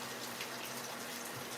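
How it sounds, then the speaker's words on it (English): Water is poured into a container to make hibiscus tea, a soft, steady, faint stream heard alone for under two seconds. "I'm going to put the water in here"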